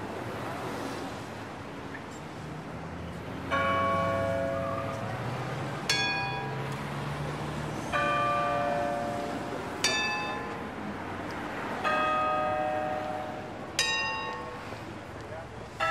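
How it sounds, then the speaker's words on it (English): Big Ben's deep bell tolls repeatedly in the Peppa Pig World Adventures London level, with brighter answering bell strikes at regular intervals over an ambient background. "Big Ben is ringing."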